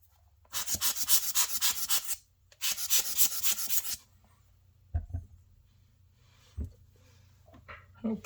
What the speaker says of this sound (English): I'm just using a microfiber cloth here.